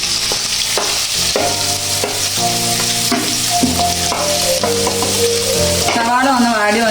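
Sliced onions fry in hot oil in a pan for dragon chicken, a loud continuous sizzle running under background music throughout.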